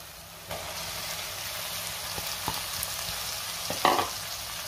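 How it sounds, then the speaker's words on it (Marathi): Bell peppers stir-fried in oil over a high-to-medium gas flame, with steady close sizzling throughout and a few sharper scraping stirs, one louder near the end. "गॅसची फ्लेम मी हाय टू मीडियमवर ठेवून ढोबळी मिरची चांगली परतून घेतेय"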